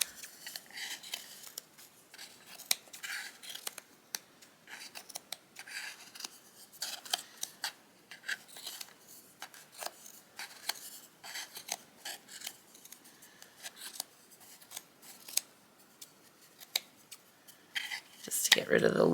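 Scissors trimming excess fabric from the back of a cross-stitch finishing piece, a run of crisp, irregular snips close by, with quiet talking around them and a louder rustle at the end.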